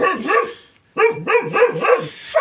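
A dog barks in two quick bursts, with a brief pause between them. The barks are loud and close, with no talking.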